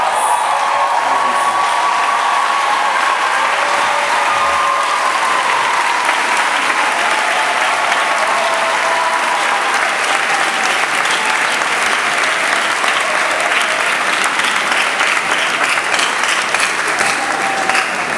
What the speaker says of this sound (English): give a resounding round of applause to all parents and guardians present here for everything they have done